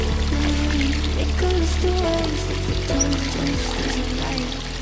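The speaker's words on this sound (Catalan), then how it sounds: "Mireu quina passada, trobar fonts així, i que a més puguis veure aigua." Water pours steadily from a natural spring outdoors in summer, a continuous close splashing stream with no voices over it.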